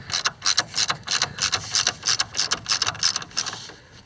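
A socket ratchet clicks rapidly and steadily as it loosens the 9/16 inch transmission mount nuts on a CJ-5 Willys Jeep, working close and fairly loud in quick repeated bursts with no talk.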